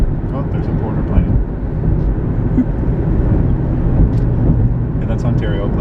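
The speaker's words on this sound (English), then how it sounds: "Oh, there's a border plane." An airplane flies overhead on a windy day by a lake with whitecaps, a loud broad engine roar that swells and holds while people talk over it.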